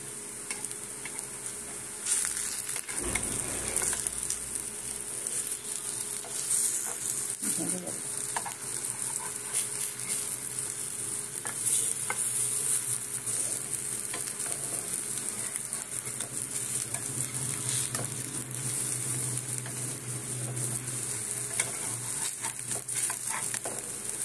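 Chana dal kebabs fry in a pan of oil with a steady, close sizzle that runs throughout, broken now and then by soft scraping and turning sounds.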